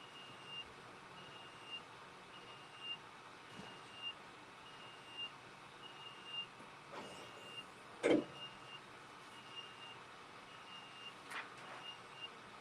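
A steady, evenly spaced run of vehicle reversing beeps sounds throughout, moderately distant, over low outdoor background rumble.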